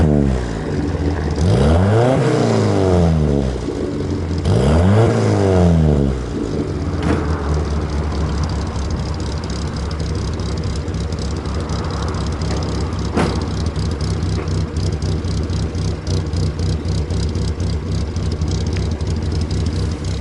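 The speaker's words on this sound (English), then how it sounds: "got that distinct Morris Minor sound, especially when you rev it" A 1957 Morris Minor 1000 with a 948cc engine revs twice in quick succession, rising and falling sharply, then settles into a steady, slightly clattering idle that runs on close and loud.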